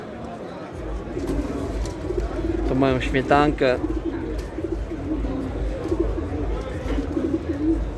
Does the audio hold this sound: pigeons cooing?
yes